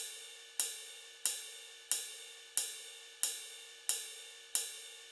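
Ride cymbal strikes ring out at a perfectly even pace, each hit shimmering and decaying before the next, with nothing else playing.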